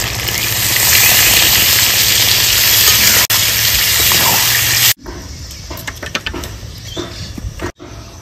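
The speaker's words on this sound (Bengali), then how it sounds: "দিয়ে দেবো জল।" Water gushes loudly into a pot of mutton curry cooking with papaya in a village kitchen, a strong steady pour for about five seconds followed by softer bubbling and sizzling.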